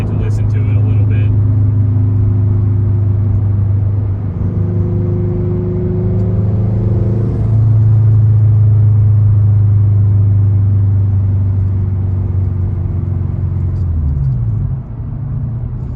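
Turbocharged 86 car driving at night, its engine holding a steady, loud low drone from inside the cabin, shifting pitch briefly midway and dropping near the end.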